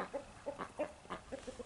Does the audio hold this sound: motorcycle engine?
no